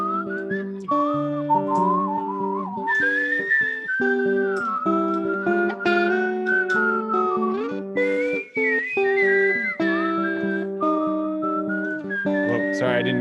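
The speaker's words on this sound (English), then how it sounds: "Let's do some whistling together." A person whistles a lively melody alone, continuous and close, with shifting pitch and short pauses between phrases, accompanied by steady tonal backing throughout.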